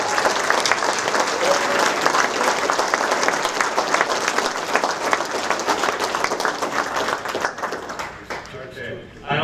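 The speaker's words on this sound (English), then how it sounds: "a round of applause for this incredible guy, the president, Bob Bowen" A ceremony crowd at a bicycling hall of fame induction claps loudly for the organization's president, a dense sustained ovation with a few cheers mixed in that tapers off near the end.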